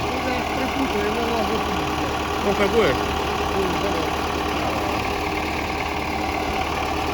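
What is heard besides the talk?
old tractor engine running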